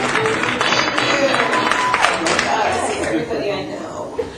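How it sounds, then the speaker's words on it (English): Comedy-club crowd applauding a stand-up comedian returning to the stage, with dense steady clapping and some chuckles and chatter mixed in throughout. "So let's get a big round of applause."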